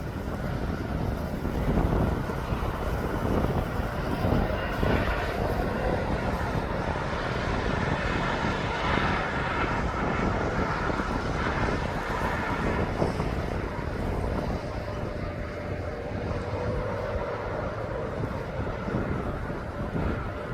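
An aircraft taxis at East Midlands Airport, its jet engines producing a steady, loud broadband roar that holds for the whole stretch, with some wind buffeting on the microphone and no talking.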